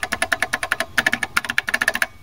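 Rapid typing on a retro Apple computer keyboard, a quick run of crisp, clicky keystrokes close up with a brief pause midway, and no talk over it.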